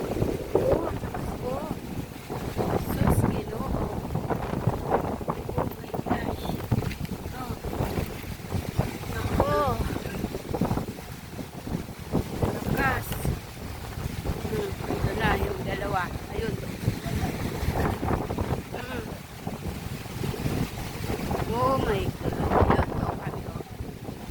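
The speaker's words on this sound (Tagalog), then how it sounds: "ang lakas pa ng hangin" Strong wind roars and buffets the microphone in gusts, with surf-like rushing water and excited voices talking over it throughout.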